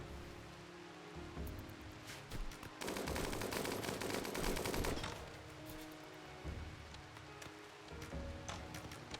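Rimworld turret gunfire crackles in dense, continuous automatic bursts, swelling into a heavy sustained barrage midway before easing back to scattered shots.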